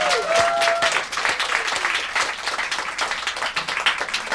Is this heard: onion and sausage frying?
no